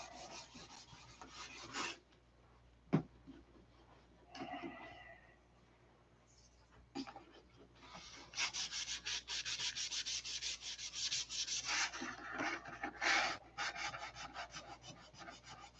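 Repeated rasping strokes of fine 1000-grit sandpaper rubbing a surface, starting in short bursts and then settling into a fast, steady back-and-forth scrubbing.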